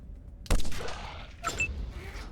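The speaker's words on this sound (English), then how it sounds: "And shoot it again." Gunfire from Wasteland 2 arrives as a sudden loud burst of shots followed by a second, shorter report a second later, with reverberant tails over faint background.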